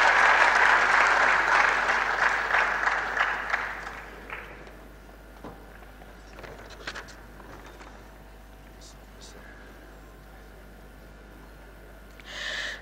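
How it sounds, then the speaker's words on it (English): Audience applause at a maritime studies annual lecture swells loudly at first, then thins and fades into room noise, with scattered claps and murmurs lingering before a brief rise at the end. "Please give them a round of applause."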